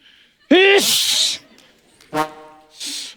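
A person sneezes loudly in a comedic staged exaggeration, a sharp vocal burst followed by breathy hiss, then another voiced burst and a further hiss.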